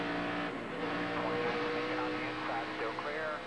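A NASCAR stock car's engine at the 2007 UAW-DaimlerChrysler 400 holds a steady, droning roar heard from inside the car, loud and continuous with slight pitch shifts, under radio chatter.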